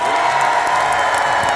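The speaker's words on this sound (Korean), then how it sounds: "다 같이 다시 한번 박수와 함성!" A concert crowd at the Boseong Green Tea Expo daily concert applauds and cheers, giving a continuous, loud roar of clapping and voices that stays even throughout the short stretch.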